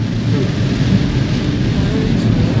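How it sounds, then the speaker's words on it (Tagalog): Heavy summer rain pours down steadily in Bicol, a loud, dense, unbroken roar of falling water with no voices. "Sobrang lakas ng ulan, no?"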